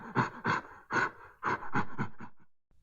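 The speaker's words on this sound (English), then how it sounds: "The gorilla says," A gorilla gives a series of breathy, panting grunts in quick uneven bursts, fairly quiet and close, with a short trailing huff at the end.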